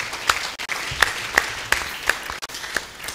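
An audience claps at a humanitarian response plan launch event, a thin scattering of individual claps in uneven rhythm, fairly faint and sparse rather than a full ovation.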